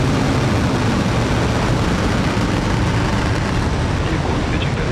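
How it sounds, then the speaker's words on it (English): SpaceX rocket lifting off on the SXM-9 mission, a dense, continuous broadband roar and crackle filling the whole span at a steady, heavy level. "Ignition. And liftoff."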